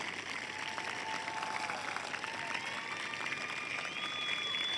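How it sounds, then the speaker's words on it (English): A large crowd applauds at a high school graduation ceremony, with dense, steady clapping throughout that sounds somewhat distant in a big space. "I would like to ask you to join me in applauding this extraordinary class of young adults"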